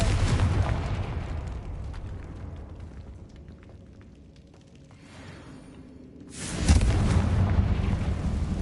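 A Confringo fire spell explodes in Hogwarts Legacy, a loud booming blast that rumbles and fades, then a second heavy burst erupts near the end.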